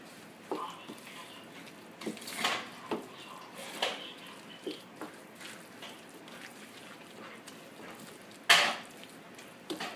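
Moong dal pakoda batter being mixed by hand in a bowl, with soft intermittent squelching and clinks against the bowl, plus one sharper clatter near the end; fairly quiet and close.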